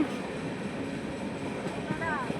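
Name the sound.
Tirumala Express train running into a railway station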